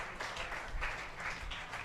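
An arena crowd at a women's handball championship final in Salt Lake City applauds the winner, a continuous patter of clapping with mild swells, moderately distant and unbroken.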